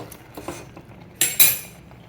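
Raw mango pieces being smashed with a utensil in a kitchen, a few soft knocks followed by two sharper metallic clanks close by.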